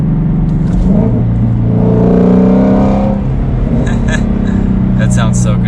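Shelby GT350 Mustang engine accelerating, a loud steady rumble that swells in pitch midway, heard from inside the car with people talking over it.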